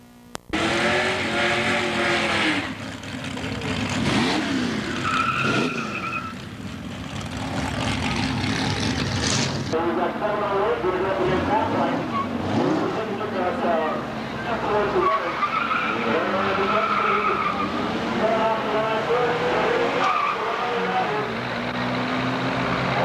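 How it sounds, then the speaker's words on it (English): A drag race pits a half-pint Mustang against a big red Chevrolet pickup, with engines roaring and tires squealing steadily at a moderate distance while a commentator talks over the noise throughout. "James Prout in his half-pint Mustang is going to be running against Larry Langerman in the big red Chevrolet pickup."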